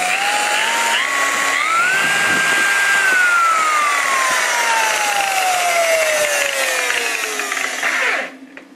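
A high-speed car buffer polisher whines steadily close by, its pitch climbing as it speeds up, then sliding gradually lower before it cuts off abruptly near the end.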